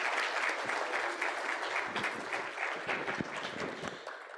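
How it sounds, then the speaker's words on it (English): Audience applause at the Compounding Experts Meet 2024 conference: dense, steady clapping from a crowd for a few seconds that thins slightly toward the end, with no talk over it. "Please give a big round of applause for each and everyone present over here."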